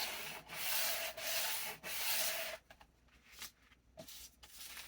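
Sandpaper rubbed over painted wood to distress a welcome door sign, with long rhythmic scratchy strokes close up, then quieter intermittent rubbing and light handling.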